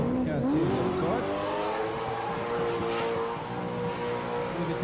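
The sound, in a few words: car doing a burnout at Summernats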